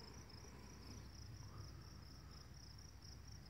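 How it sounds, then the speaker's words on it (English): Crickets in a hilltop meadow around 6 p.m. keep up a continuous high, even chirring across a quiet, faint evening background, with no voices. "you hear the crickets up here"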